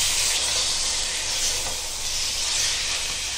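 A steady, even hiss and sizzle as a green chili, mint and coriander paste fries in a pan for chicken white biryani, continuous and fairly loud with no talking.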